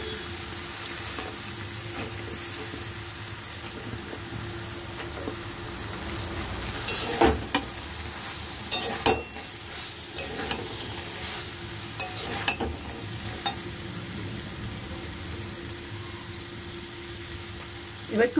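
Flat beans sizzle steadily in a pan of fried spice paste with green chillies, with occasional scrapes and knocks of a stirring spoon over the continuous frying hiss.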